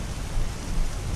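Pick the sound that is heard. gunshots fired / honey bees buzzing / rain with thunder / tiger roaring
rain with thunder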